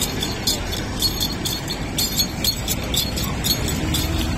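The inside of a moving train carriage carries a steady low rumble with faint rhythmic clinks and rattles repeating through it, continuous and even, with no one talking.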